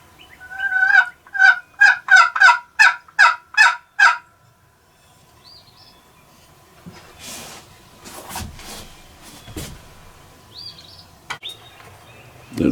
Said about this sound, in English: That darn gobbler there is doing just exactly like the one did yesterday.